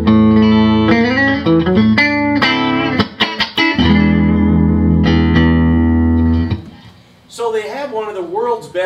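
An electric guitar, a custom shop Broadcaster, plays through a Magnatone amp with lush reverb, sounding loud and close with sustained chords and single notes that ring out, followed by a short stretch of speech.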